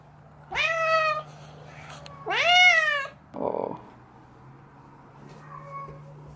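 A female cat meows loudly twice in long, drawn-out calls, followed by a shorter, rougher cry and a faint final mew, all close by with no talking over them.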